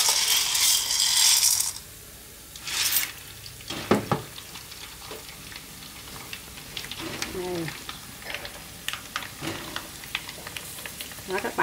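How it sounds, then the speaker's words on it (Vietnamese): Dried noodles fry in hot oil with a busy crackling sizzle, broken by scraping and stirring clatter from a utensil and a few sharp clicks, heard up close in a kitchen. "Bây giờ mình sẽ chiên tiếp, mình cũng bỏ từ từ thôi"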